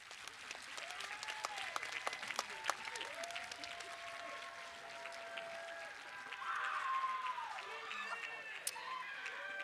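Stadium audience at a high school graduation ceremony applauding the graduates' teachers and families, a broad steady wash of clapping with scattered cheers and whoops rising toward the end, moderately distant.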